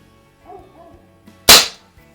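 A 1958 Crosman Hahn 45 CO2 BB revolver fires a single sharp, loud crack, preceded by faint handling noises and followed by a brief fading tail.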